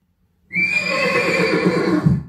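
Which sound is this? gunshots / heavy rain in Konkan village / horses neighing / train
horses neighing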